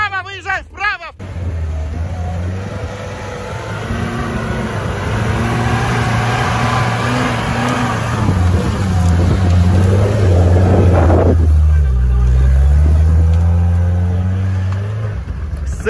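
An off-road vehicle's engine revs hard and strains steadily up a steep climb, the low drone rising and falling with the throttle and growing louder near the end, while voices call out over it.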